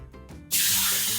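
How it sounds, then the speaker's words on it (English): Hissing spray of diluted cleaner onto car wheels, beginning after a short quiet moment and continuing as one loud, close, steady blast. "we're going to spray all clean diluted 15:1 on your wheels"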